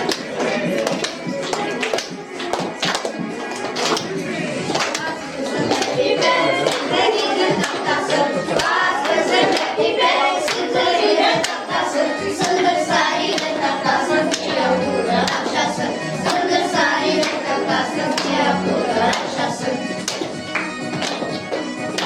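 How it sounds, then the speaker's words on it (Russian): Audience clapping along in rhythm to a song at a creative evening in a city library, steady and loud throughout with a few voices mixed in. "Поддерживаем аплодисменты."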